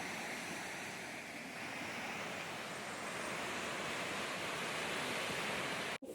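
Steady, close rushing of water from a waterfall at Portland Waterfall and Gardens, a continuous dense roar holding even throughout before a brief handling knock at the very end.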